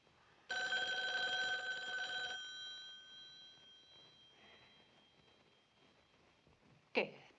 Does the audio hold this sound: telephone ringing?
yes